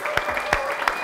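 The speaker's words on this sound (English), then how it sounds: "Round of applause, please." A small group in a workshop setting claps briefly, with sharp, close hand claps over a light patter and a faint steady hum.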